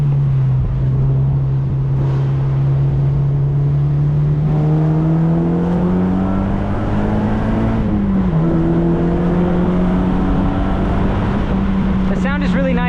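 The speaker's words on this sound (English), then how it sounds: "Definitely way less drone when it comes to this exhaust" A 2012 Mazda MX-5 Miata NC2 fitted with a Goodwin Racing single exhaust drones steadily up close, its pitch rising and falling through the gears with a brief dip near the middle on a mountain road.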